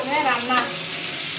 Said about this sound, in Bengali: চিকেন রোস্ট করবো।